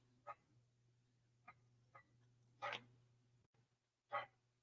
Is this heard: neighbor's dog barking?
yes